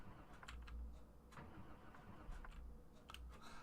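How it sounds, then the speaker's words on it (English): A car engine in Project Zomboid cranking repeatedly but failing to catch, quiet stuttering turnover attempts with brief pauses, faint and low. "And the car won't start."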